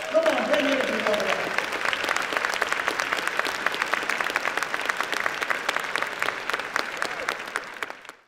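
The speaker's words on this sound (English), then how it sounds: "Give yourselves a round of applause." Sustained audience applause at a motivational speaking event, dense and steady for several seconds before tapering off at the end, with a brief voice at the start.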